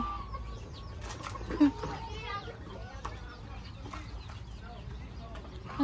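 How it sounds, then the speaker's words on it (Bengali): Chickens cluck a few times outdoors, with two short bursts of flapping wings, one early and one at the end, while people talk nearby. "মুরগি"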